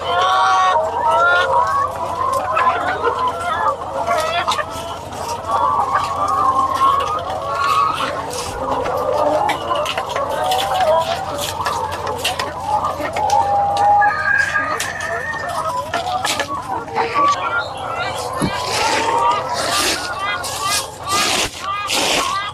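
Layer hens on a poultry farm clucking and cackling continuously, with a rooster crowing amid the flock and a person talking over the birds.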